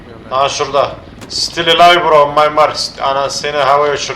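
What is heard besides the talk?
None of the usual background noises is heard.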